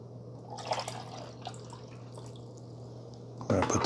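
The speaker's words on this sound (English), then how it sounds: "They want you to fill the tumbler to the water line and then dump it in the back." Water from a tumbler is poured into the rear reservoir of a Mr. Coffee Iced + Hot single-serve coffee maker, a faint trickling splash that surges louder near the end.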